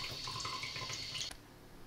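Water hisses steadily into the storage tank of an Aquaphor DWM-312S portable reverse osmosis filter, a close, even rush that drops away sharply near the end.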